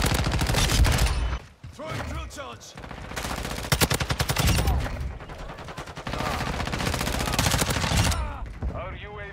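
Gun in Modern Warfare II fires long bursts of rapid automatic shots, loud and close, broken by brief pauses and a reload-like gap, with a voice talking faintly underneath.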